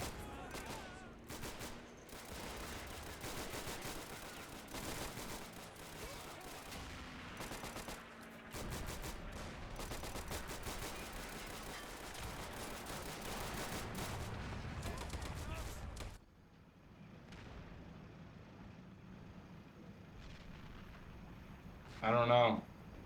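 Rattling machine-gun bursts and dense rifle fire from a World War II strategy game match, Japanese and Russian sides, roll on continuously and loud for most of the stretch, then drop to sparse distant shots before a brief sharp burst at the end.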